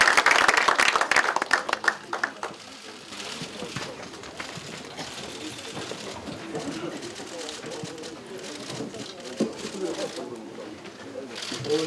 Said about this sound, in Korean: 의원님들께서는 박수로 맞이해 주시기 바랍니다.